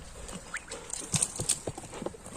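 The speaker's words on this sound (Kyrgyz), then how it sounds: "Ат жаныбар мына." A horse's hooves clip-clop in a quick uneven run of sharp knocks over about two seconds, moderately near and fairly quiet against a low background hum.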